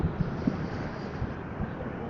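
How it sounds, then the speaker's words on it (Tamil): Wind buffets a microphone outdoors at the start of a motorcycle trip, making a steady, low, rumbling roar that fills the whole stretch with no clear talk over it. "ஓ, காற்று சவுண்டு."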